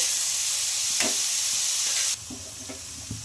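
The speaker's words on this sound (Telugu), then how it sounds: "ఆనియన్స్ అయితే కొద్దిగా లైట్ అండ్ బ్రౌన్ కలర్ వచ్చే వరకు ఫ్రై చేసుకోవాలి" Onions and green chillies fry in a pan with a steady bright sizzle, which suddenly softens partway through and is then punctuated by a few light stirring clicks.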